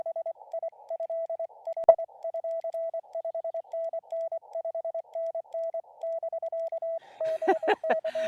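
Ham radio Morse code at a mountain camp for Parks on the Air, a clear single-pitch tone keyed in quick irregular dots and dashes, one sharp click midway and a burst of rougher, noisier tones near the end.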